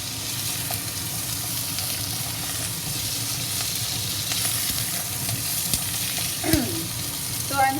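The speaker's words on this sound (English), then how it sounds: "So I'm still sauteing my potatoes, and as I said earlier, keep it partially covered." Potatoes with curry leaves sautéing in a partially covered pan, a steady close sizzle and frying hiss with occasional scrapes and light clinks of stirring.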